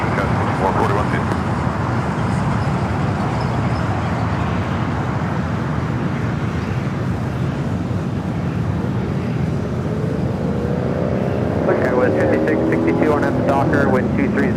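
Airliner departing on runway 25 right at Los Angeles International Airport, a steady broadband jet roar rising as the aircraft accelerates, with engine tones climbing near the end and talk over it.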